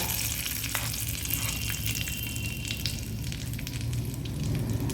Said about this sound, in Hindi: गैस को कर देते हैं बंद और इसमें आधे से भी कम चम्मच जितना लाल मिर्ची का पाउडर डालेंगे